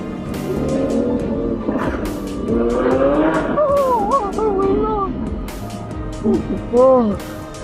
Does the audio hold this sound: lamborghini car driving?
yes